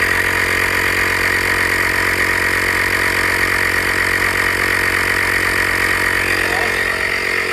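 A Hyper Tough air compressor runs steadily and loudly up close, a continuous droning motor hum with a fine rapid pulsing, unbroken throughout.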